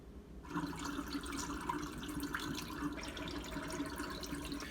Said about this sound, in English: Do a little cold water rinse, just lets the tank and the film sort of come up to temperature